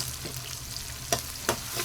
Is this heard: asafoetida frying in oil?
yes